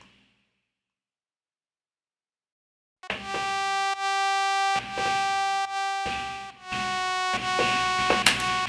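A bright future bass synth lead plays a few sustained notes alone after about three seconds of silence, with rich harmonic tone, short gaps between the notes, and no other instruments.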